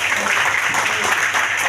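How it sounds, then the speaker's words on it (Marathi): An audience applauds at a retirement felicitation held by a municipal corporation, a dense, loud wash of clapping hands that sounds close and continuous through the brief moment. "सर्वांनी जोरदार टाळ्या वाजवा।"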